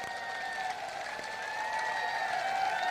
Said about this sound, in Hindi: इसके खिलाफ देखिए ताली बज रही है